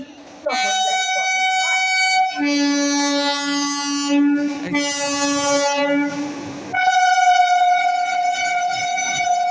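Howrah–Kamakhya Vande Bharat sleeper express passing Chuchura towards Bandel, sounding a loud, sustained multi-tone horn in several long blasts with the rumble of the passing train beneath, close and steady throughout.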